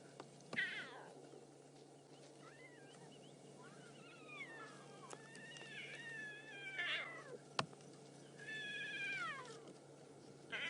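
Cat-like growls and snarling yowls from lion cubs, rising and falling in several bursts, fairly close, with a low engine hum underneath, on a safari drive.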